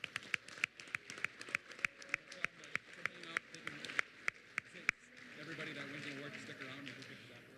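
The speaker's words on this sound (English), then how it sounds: "Let's give them a round of applause." At a high school awards ceremony, sharp rhythmic hand claps ring out close by for several seconds, then give way to a broader, softer wash of crowd applause and murmuring.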